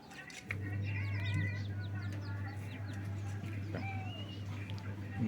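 Chickens cluck and chirp over a steady low mechanical hum, with chicks of a red junglefowl cross peeping throughout at moderate distance.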